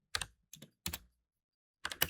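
Typing on a computer keyboard: four short bursts of crisp clicks, close and clear, separated by silent pauses, no voices.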